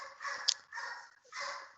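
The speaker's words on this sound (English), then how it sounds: "I got dogs barking." Dogs bark in short, muffled bursts at a distance, about three quiet barks with gaps between them.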